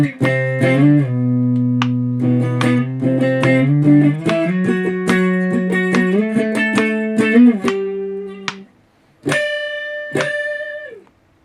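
An electric guitar with distortion plays a riff, a loud, sustained run of chords and single notes that cuts off briefly and then rings out again with a bending note, alone without speech.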